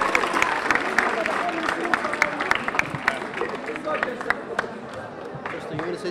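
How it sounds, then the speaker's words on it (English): A crowd claps and cheers at the closing of a Somali soccer tournament, with sustained scattered applause and sharp individual claps over a steady hubbub of voices and babble. "Everyone give themselves a big round of applause."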